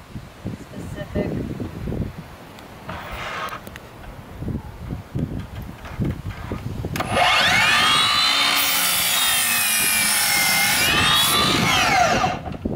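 Wood boards cut for a DIY dog bed frame, with 2x4 lumber sawn by a power tool: a loud, steady high whine and grinding rasp from about seven seconds on, after a stretch of knocks and a person talking.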